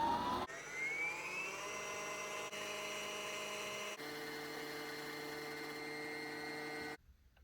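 Brother CS7205 sewing machine winding a bobbin with its foot controller unplugged, a steady motor whir that runs alone for about six seconds, shifting pitch once or twice before stopping abruptly.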